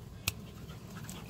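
A puppy pants softly and rapidly close by, with one sharp click-like noise near the start.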